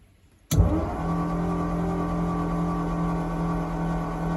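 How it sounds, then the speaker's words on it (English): A 1940 Ford Coupe hot rod engine with its spark plugs removed cranks over on the starter, kicking in abruptly and then holding a steady, even mechanical whir with a low drone up close. "There you go, it's turning over."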